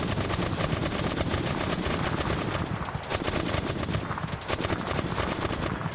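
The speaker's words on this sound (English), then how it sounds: "Why are you firing on your own now?" AI-controlled soldiers firing automatic weapons in a Vietnam-era combat game, dense continuous bursts of gunfire with rapid rattling shots, loud and close, briefly thinning twice before resuming.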